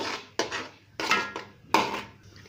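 Food stirred in a pan with a spoon, three distinct scraping strokes with clinks against the metal, close and unaccompanied by talk.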